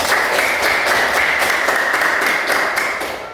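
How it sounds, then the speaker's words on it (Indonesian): Students in a classroom applaud together, a dense, loud, continuous wash of clapping with a faint regular beat, tapering slightly at the close. "Jadi mari kita beri tepuk tangan untuk kita semua."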